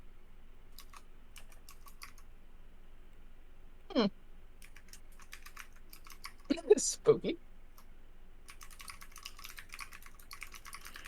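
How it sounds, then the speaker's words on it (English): Several bursts of computer keyboard typing, brief clusters of key clicks around a short isolated tap, faint against background hiss with a few soft words spoken nearby. "I'll type it for you"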